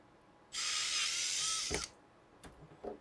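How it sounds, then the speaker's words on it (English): A power drill whirs loudly for about a second as it bores through plastic, followed by a few clicks and clunks. "it's literally just drilling holes in plastic."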